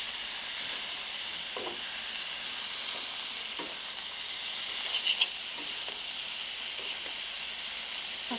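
Dried loitta fish (shutki) and cut potatoes fry in a pot, a loud, continuous sizzle and hiss with faint occasional stirring clicks, no talking.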